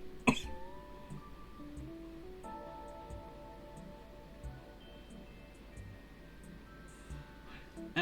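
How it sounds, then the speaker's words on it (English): A single sharp cough at the start, followed by throat clearing, close and fairly loud against quiet background hum, with a faint second cough near the end. "I might cough, so give me a second here"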